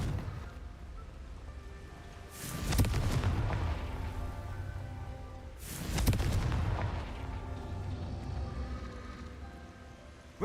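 Two heavy, booming blasts from the Confringo fire spell in Hogwarts Legacy, each a sharp loud burst that rumbles and decays over a few seconds, a few seconds apart, above a low droning game background.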